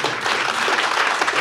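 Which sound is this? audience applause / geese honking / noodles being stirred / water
audience applause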